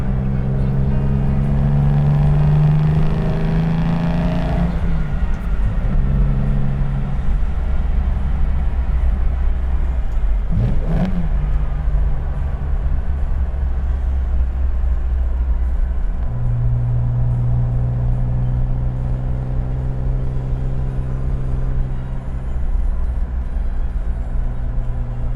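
A 1961 Aston Martin DB4 drives along with a steady engine rumble from inside the car. The pitch rises and falls as gears change, with one brief sharp noise partway through.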